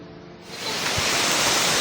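Kurdas waterfall rushing in a steady, dense roar that swells in loudness after a quieter start, heard close and continuous with no voices.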